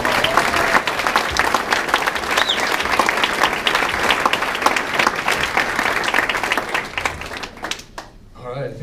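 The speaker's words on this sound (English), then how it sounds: "let's give those ladies a round of applause" Sustained audience applause at a high school track and field banquet, a dense steady wash of clapping from a large crowd that fades near the end.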